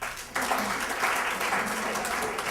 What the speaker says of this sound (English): I'm gonna ask you to hold your applause till the end